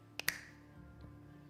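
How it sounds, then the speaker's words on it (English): Two crisp finger snaps in quick succession, close and sharp, followed by quiet room tone. "I'm going to snap my fingers"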